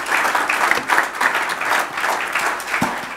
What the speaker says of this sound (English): Round of applause for this panel.